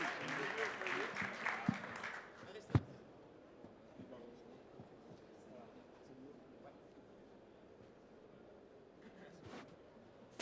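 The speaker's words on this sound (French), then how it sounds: "Je pense que iFollow mérite tous nos applaudissements." Audience applause at an innovation and startup awards ceremony, dense clapping in the first two seconds that fades into a low, thin patter and room murmur.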